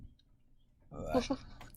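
Galaxy dice being handled during a tabletop role-playing game session, giving a short cluster of close clicks and rattles after a quiet start, with voices talking around them.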